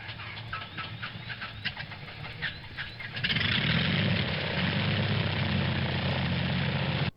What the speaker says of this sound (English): the engine was started up.